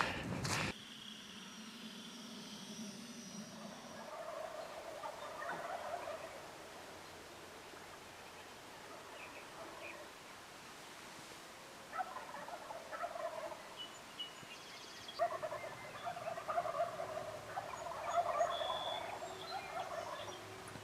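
Wild turkeys gobble from their roost during a Nebraska bowhunt, distant and faint, with several separate gobbles spread over a quiet outdoor background and a sharp knock at the start.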